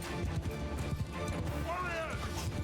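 Horse hooves clip-clop from cavalry and horse archers riding into a Mount & Blade II: Bannerlord battle, a steady, dense patter of game action sounds with speech over it.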